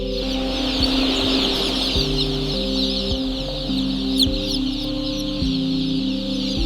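Dense clucking and cheeping of many chicks and fowl at a poultry factory, a continuous close chorus with repeated short calls overlapping throughout, no voices.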